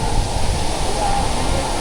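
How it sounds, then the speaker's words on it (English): Madakaripura waterfall in East Java roaring as a dense, steady broadband rush, close and continuous with no letup. "The cold water splashing our faces, the roar of waterfalls surrounding us."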